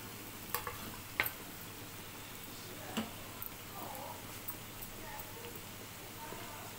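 Badusha sweets frying in hot oil in a home kitchen: a steady, soft hiss of sizzling with scattered sharp pops and small clicks, fairly faint and continuous throughout.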